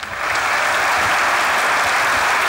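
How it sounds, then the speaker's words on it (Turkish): Studio audience at a Turkish television comedy show claps loudly and steadily, a dense, continuous wash of applause after a quick rise at the start. "Alkışların en büyüğü BKM mutfak oyuncularına gelsin efendim."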